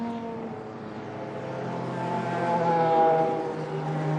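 Race cars of the 1998 Le Mans 24 Hours rolling off in a pack for their reconnaissance lap, a steady blend of engine drones that swells gradually to a peak near the end and then eases slightly, with no talk.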